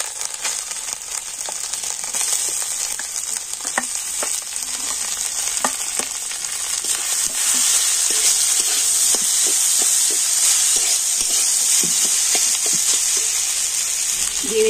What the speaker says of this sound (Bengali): আদাটা তেলের উপরে একটু হালকা করে ভেজে নিয়ে দিয়ে দেবো সিদ্ধ করে রাখা আলু